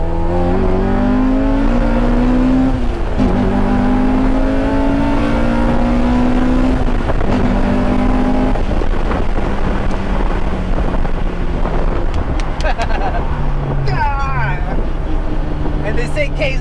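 A 1992 Honda Accord LX engine revs repeatedly, rising and falling in pitch under steady wind and road noise, with people talking over it.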